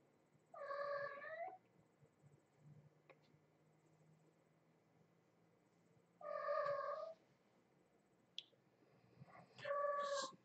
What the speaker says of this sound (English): My kitty's wanting attention.